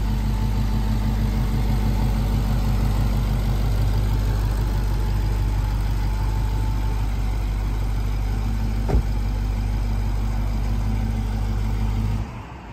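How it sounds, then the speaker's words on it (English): A Dodge Hellcat's engine idles steadily and loudly close by with a deep, rumbling drone, then cuts off abruptly at the end as the car is switched off. "I'm gonna turn the car off real quick so you guys can hear me better."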